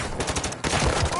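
Rapid submachine gun fire in a video game, a dense loud burst that runs almost without pause, dipping briefly midway before resuming at full strength.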